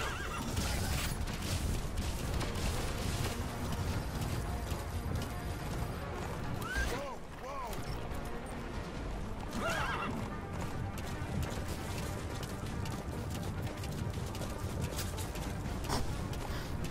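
Hooves of a horse gallop in a steady clip-clop rhythm in a video game, with loud neighs breaking out twice midway, while the pounding continues unbroken to the end.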